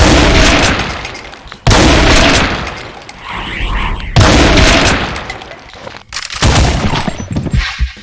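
Heavy shotgun blasts from a Doom mod, three loud booming shots spaced a couple of seconds apart, each with a sharp crack and decaying roar, over dense game noise and chaotic combat sounds.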